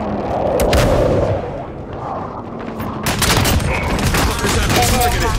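Sustained video game gunfire rattles in dense bursts with booming impacts, dipping briefly mid-way before surging again into heavy, close, continuous shooting under a busy battle din.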